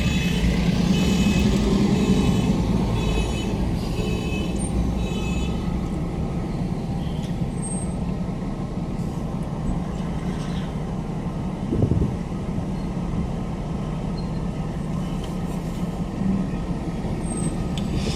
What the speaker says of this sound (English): If you notice when the traffic stops, it stops just for a short while.